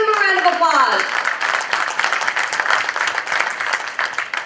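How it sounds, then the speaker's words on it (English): Audience applause at a chamber of commerce gala, starting under a voice in the first second, then steady dense clapping filling the rest of the short stretch. "Give them a round of applause."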